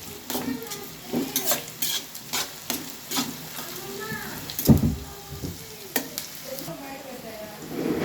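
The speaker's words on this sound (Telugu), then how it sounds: "క్యాప్సికం పచ్చిమిర్చి 2 వేసుకోవాలి. అవి కూడా కలదిప్పాలి" Capsicum and green chillies stir-fried in a pan for meal maker egg fried rice give a steady sizzle, punctuated by repeated clinks and scrapes of a spatula against the metal. No voices are heard.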